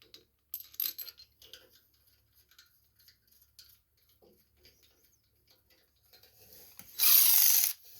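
Small metal clicks and scrapes of bolts being tightened down on the carburetor of a Briggs & Stratton snowblower, sparse and close, followed by a brief loud burst of broadband noise near the end.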